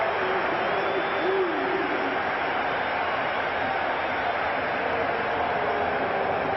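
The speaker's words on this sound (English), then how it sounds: "So the Eagles have taken the lead, and the crowd roars their approval" Stadium crowd at an NFL playoff game, Philadelphia Eagles versus Dallas Cowboys, sustains a steady, dense roar throughout, loud and continuous with faint voices mixed in.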